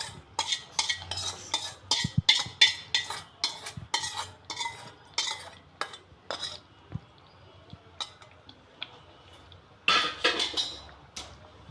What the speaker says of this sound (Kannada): ಒಗ್ಗರಣೆ ಅದನ್ನು ಇದಕ್ಕೆ ಹಾಕೊಂಡ್ಬಿಡೋಣ